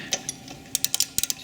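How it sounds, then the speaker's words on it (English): Ratcheting clicks from a size 11 socket loosening a Brembo brake caliper bolt, a few sharp close ticks followed by quick bursts of rapid clicking, loud and alone. "grab yourself a size 11 socket, put that over the top and just undo it a little bit"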